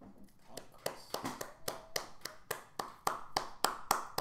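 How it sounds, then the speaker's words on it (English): Hands clapping in a steady run of sharp, separate claps, roughly two or three per second, close and moderately loud, with a faint voice underneath. "Hearing clapping, turns around."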